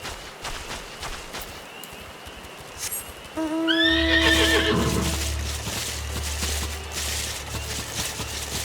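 A horse in Final Fantasy XIV whinnies loudly with a rising, quavering call, followed by a steady low rumble and clip-clopping hooves in a game soundscape.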